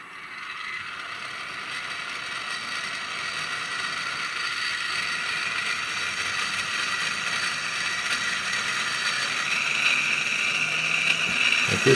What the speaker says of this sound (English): Okay, the gyro is very noisy